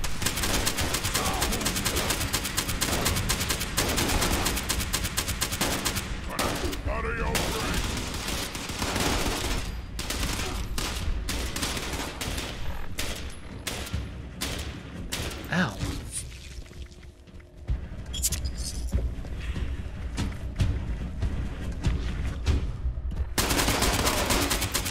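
Sustained, dense shotgun fire in the Fallout 76 game, a rapid stream of loud blasts and mechanical clacks with only brief gaps, close and continuous for the whole stretch.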